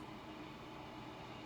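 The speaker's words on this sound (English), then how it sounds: "We've got the lovely sounds of nature outside with us today, but also the trains." Trains pass at a distance outside during an indoor chair yoga session, a steady low rumble of rail traffic filling the background without any talk.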